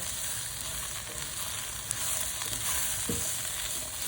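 Chicken curry frying in a pan with fennel seeds, a steady loud sizzle while it is stirred, a scrape or two breaking through, no voices.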